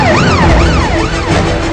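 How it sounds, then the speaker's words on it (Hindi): Police siren wailing in the morning in a residential neighbourhood, loud and close, its pitch sweeping up and down in repeated smooth cycles over a steady rumble of engine and traffic noise. "सुबह सुबह पुलिस सायरन की आवाज ने हड़कंप मचा दिया"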